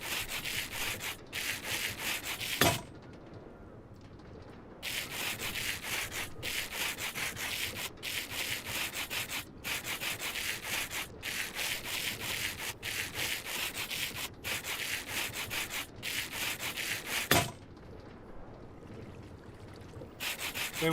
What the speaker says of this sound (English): We're going to go through quite a bit of sandpaper for this.